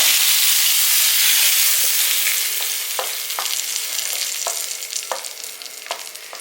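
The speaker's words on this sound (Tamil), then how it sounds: "இந்த சூடோடு வந்து இதில் ஊற்றிடலாம் அப்படியே கிளறி விடுங்க" Hot tempering oil hits an onion chutney with a loud rushing sizzle that fades, followed by several distinct spoon scrapes as it is stirred, close and without talk.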